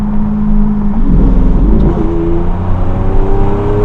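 A Lamborghini engine hums loudly from inside the cabin with the window cracked open, a deep steady drone with a brief rise in pitch partway through.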